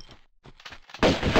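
A single loud gunshot bursts out in the Tomb Raider level The Wreck, arriving suddenly after quieter rustling game sounds and filling the end of the moment.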